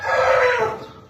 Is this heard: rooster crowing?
yes